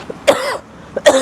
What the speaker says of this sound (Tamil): இருமல் வேறு உயிரை எடுக்குது.